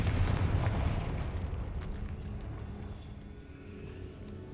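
A Confringo fire explosion spell bursts in a Harry Potter video game, a loud low rumbling blast that decays slowly into a dark catacomb ambience with no talk.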